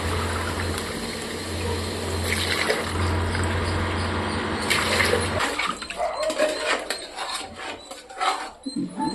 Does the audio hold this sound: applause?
no